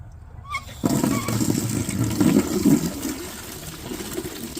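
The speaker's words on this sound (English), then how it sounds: "Double rinse your bucket." Water rushes steadily into a bucket being rinsed outdoors, a loud, continuous splashing and gushing that starts abruptly after a short quiet moment and runs to the end.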